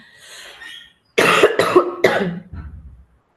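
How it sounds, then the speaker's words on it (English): A burst of three quick, harsh coughs, close and loud, trailing into a low throaty rasp. "I'm so sorry about my cough."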